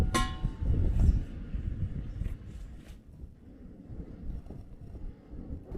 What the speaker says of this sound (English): With the wind blowing like this, it's really tough